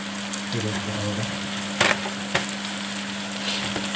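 Minced meat frying with onions in a pan gives a soft, steady sizzle, with a couple of brief clatters and a faint background hum.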